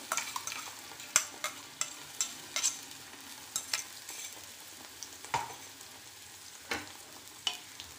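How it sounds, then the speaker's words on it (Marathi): A raw coriander-chili paste with tomato sautéing in oil, giving a soft continuous sizzle broken by frequent light clicks and scrapes from stirring. "ती पेस्ट आपली कच्ची असल्यामुळे त्याला थोडं तेलामध्ये परतून घ्यायचं."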